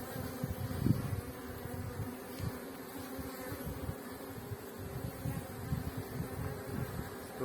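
Steady, close buzzing of many honeybees swarming together while a queen is introduced to a queenless colony, a continuous low drone with no voices.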